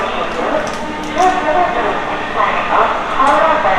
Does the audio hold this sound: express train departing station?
yes